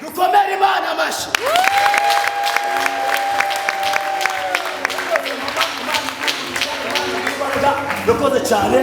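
A church congregation applauds and cheers in steady, loud, dense clapping mixed with shouts, while a sustained musical note holds underneath for several seconds.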